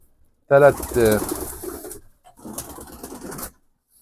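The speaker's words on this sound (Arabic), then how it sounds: "زي ما انتم شايفين الحمام" Domestic pigeons coo in their loft, two close bursts of soft throaty calls with a short pause between them, the first stronger and the second fainter.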